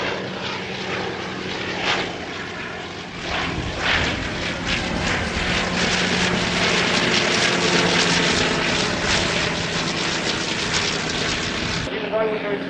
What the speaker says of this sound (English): Let's develop the power of the engine.